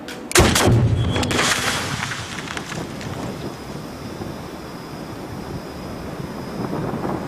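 A Napoleonic-era cannon at Waterloo firing canister shot: one sharp, loud blast near the start, followed by a long rumbling, crackling decay that fades gradually over several seconds.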